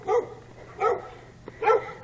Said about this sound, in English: That's my doggie. You're barking.